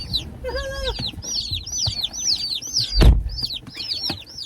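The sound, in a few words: chicks peeping in shipping box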